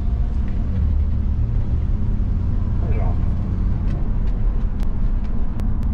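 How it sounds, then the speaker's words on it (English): A van rolls along the road in the evening, its steady engine and tire rumble filling the cabin loudly and continuously, with a few faint clicks and creaks over the drone. "We are out driving around in the van."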